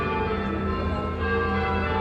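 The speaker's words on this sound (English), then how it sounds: "It's a miracle of the bells." Bells ring on the Las Vegas Strip, a dense sustained wash of tolling tones filling the air, steady and fairly loud throughout with no talking.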